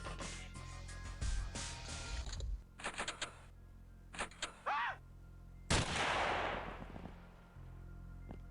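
Bursts of gunfire from the pixel-art strategy game XPiratez come in several separate volleys with sharp broadband blasts, followed by a louder crashing impact that fades over a couple of seconds, with no talking.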